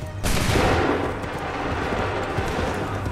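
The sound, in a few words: musket volley fired by soldiers, Assassin's Creed III video game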